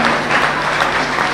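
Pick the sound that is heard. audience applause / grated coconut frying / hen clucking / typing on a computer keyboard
audience applause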